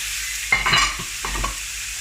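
Beef brisket sears on the saute setting of a pressure cooker with a soft steady sizzle under a couple of brief stirring scrapes and clunks, close up with no talking.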